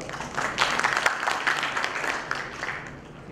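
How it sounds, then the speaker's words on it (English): A hall audience claps in a dense, lively burst of applause that stays close and fairly loud, then thins out toward the end. "Give her a good round of applause."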